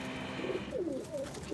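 Ferozpuri and Teddy cross pigeons give soft, low, warbling coos, a few short calls close by over a quiet hum, with no talking.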